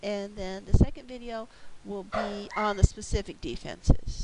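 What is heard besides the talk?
dog barking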